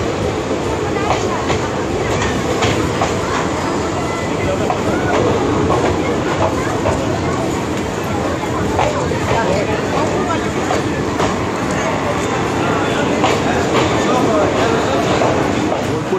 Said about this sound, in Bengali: এই মুহূর্তে আমাদের ট্রেন ঢুকছে বোলপুর শান্তিনিকেতন